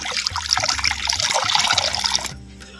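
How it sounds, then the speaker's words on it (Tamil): Water poured into a clay pot to boil toor dal, a steady splashing, trickling pour close by for over two seconds before it stops abruptly. "தேவையான பச்சை தண்ணியை அரை லிட்டர் சேர்த்துக்கிறேன்"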